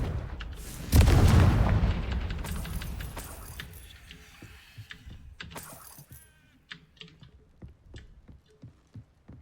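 A deep, booming spell explosion in a video game bursts loudly at about the one-second mark, then rumbles and fades, followed by scattered small clicks and taps.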